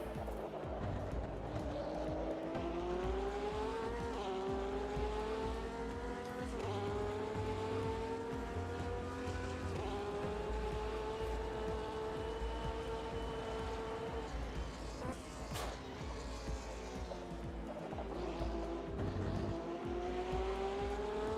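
A McLaren race car engine in a sim racing game, revving continuously through gear changes with rising and falling pitch, joined by faint tire squeal on the corners.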